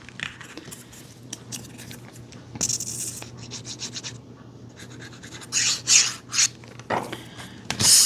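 Card paper for a handmade Christmas card is trimmed with a paper trimmer, giving soft scraping and rasping strokes with short sharp slicing bursts, close and quiet, without talk.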